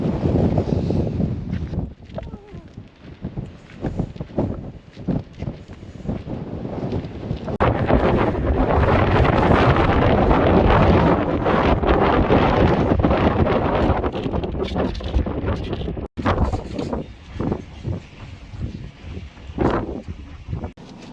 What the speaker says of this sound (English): It is windy. Windy pindy. So windy.